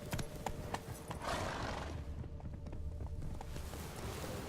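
Roach the horse gallops in The Witcher 3: Wild Hunt, a steady rapid clip-clop of hooves close up with rising rushing noise as the pace builds.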